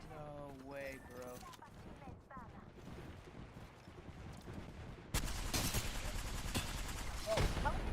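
Gunfire in the video game Apex Legends: a voice talks over faint shots at first, then a loud burst of close, rapid fire erupts partway through and keeps going to the end.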